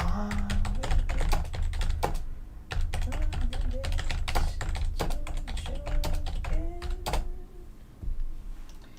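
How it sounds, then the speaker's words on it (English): Rapid, dense clatter of keys being typed on a keyboard, steady bursts with brief pauses, close by, with faint tonal sounds underneath. "You can hear me typing."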